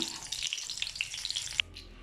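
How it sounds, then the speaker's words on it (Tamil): Small shallots fried in oil until golden brown for a spicy brinjal thokku, a steady close sizzle and crackle with a few sharper pops and stirring scrapes, no talk. "இப்போ சின்ன வெங்காயத்தை இப்படி நல்லா கொஞ்சம் கோல்டன் ப்ரௌன் ஆகிற வரையும் வர பொரிக்கணும்"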